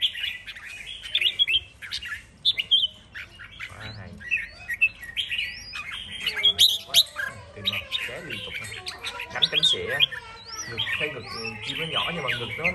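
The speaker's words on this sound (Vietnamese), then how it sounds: "Chim nhà thường nó ít chơi lắm mà sao nay nó chơi dữ vậy?" A caged Quảng songbird sings energetically. Rapid chirps, whistled phrases and harsh squawks tumble out close and lively, almost without pause.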